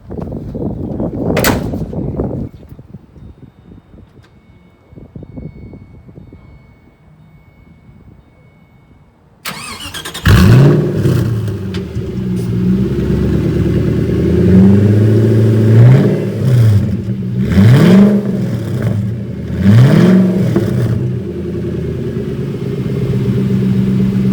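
A 2006 Ford GT with a muffler-delete Hefner exhaust starts after a door shuts, then settles into a loud, close idle broken by several sharp, rising revs in steady succession.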